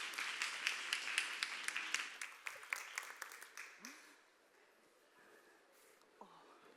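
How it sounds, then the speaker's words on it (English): A conference audience claps to welcome the first speaker, a lively burst of applause with distinct sharp claps that tapers off after about four seconds, leaving a quiet room with faint stirring. "give a really warm round of applause, welcome to Callie"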